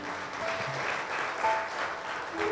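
Churchgoers clap for the Lord at a Spanish-language service, a soft, continuous patter of many hands heard from some distance, with faint tones in the background.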